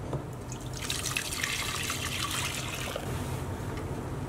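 Milk custard mixture pours back into a saucepan as a close, soft, continuous liquid splash and trickle, with no voices.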